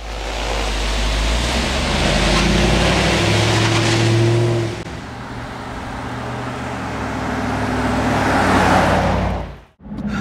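Cabin of a Jeep Grand Cherokee SRT8 cruising at highway speed, a steady low road and engine drone with broadband wind hiss, heard from the back seat, briefly dipping near the end.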